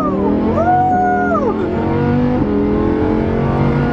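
A low-slung Lamborghini rolls slowly over a speed bump, its engine note rising and falling in a steady close drone with a brief swell as it climbs and eases down.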